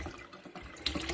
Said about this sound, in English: So that looks like the taps are working.